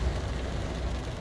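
Steady heavy rain at a safari park, a dense, even broadband wash with no breaks, close and constant throughout the short moment, no voices.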